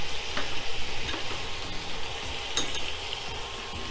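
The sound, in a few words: prawns frying with salt and turmeric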